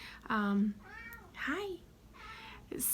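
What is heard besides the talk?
cat meowing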